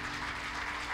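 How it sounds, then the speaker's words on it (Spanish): Brief burst of audience applause at an evening church gathering, a dense patter of hands with a low sustained musical tone beneath. "Un aplauso."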